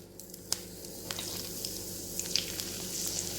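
Curry leaves dropped into hot coconut oil sizzle steadily, a close, even frying hiss with scattered sharp pops and crackles throughout.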